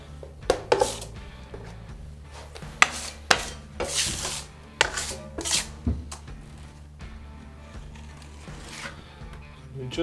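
A metal taping knife spreads and scrapes drywall mud along a Trim-Tex tear-away L bead for a first coat, giving close, rasping swipes and irregular scraping strokes with a few sharper clicks.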